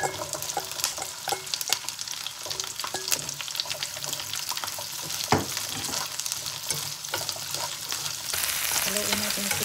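Shrimp and squid frying in butter and oil in a pan, with asparagus nearby, giving a steady loud sizzle with occasional stirring clatter and a sharp utensil knock midway.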